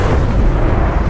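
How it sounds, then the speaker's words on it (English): A catastrophic explosion sound effect, a dense, loud, low rumbling blast that stays heavy and unbroken throughout. "A catastrophic explosion shook the earth."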